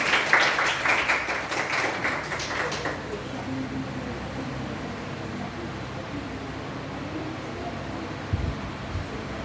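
Audience claps for an honoured guest at an event: a dense burst of applause for about three seconds that quickly fades into roomy background noise with faint murmuring.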